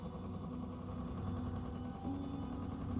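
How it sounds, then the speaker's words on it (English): A car engine running steadily in Layers of Fear, a low continuous rumble with a faint whining tone that shifts slightly in pitch, heard alone at moderate distance. "I can hear the engine on the back of my head"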